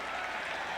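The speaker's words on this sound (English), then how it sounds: "Matt Millen gets a big hand from this Los Angeles crowd as he makes that tackle" A Los Angeles stadium crowd at a 1989 Raiders–Bears preseason football game applauds a tackle, steady dense clapping and cheering filling the whole moment at even loudness.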